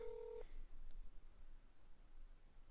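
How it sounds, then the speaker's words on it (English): A phone number is dialed in a video game: one short, clear keypad tone sounds at the start, followed by quiet, faint background. "Calling his phone number."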